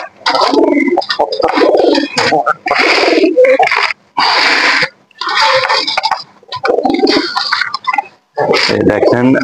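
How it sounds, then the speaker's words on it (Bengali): Pet pigeons coo in short bursts near the microphone, mixed with rustling and scuffling between pauses, while a person talks over them intermittently. "দেখেন আমার এই কবুতরটা আমার সাথে কি দুষ্টাইম করে, আমাকে ঠোকরাচ্ছে, আদর করতেছে।"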